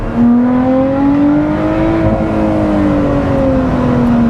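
A Lotus Exige Sport 390 engine accelerates hard, its rising harmonic tone sweeping up and then easing off in one steady, loud pull heard from inside the car, with a whirring edge beneath the growl.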